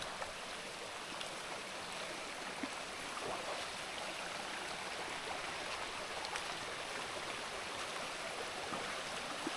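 A forest stream in the Konkan hills flows steadily as an even, broadband rush of water, continuous and moderately distant, with no voices.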